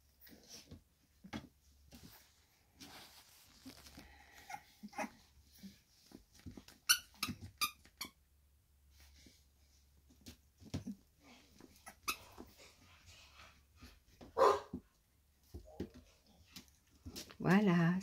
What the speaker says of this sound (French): c'était donc une petite vidéo du chiot numéro 4, la petite femelle de Staffordland